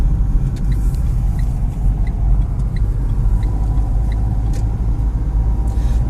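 A driving-school car's engine drones steadily from inside the cabin while it drives, with low road rumble and faint ticking of the indicator throughout, and no talk.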